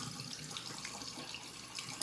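A cold water tap runs steadily for a rinse after shaving, a continuous close hiss of flowing water that stays even throughout with no talking.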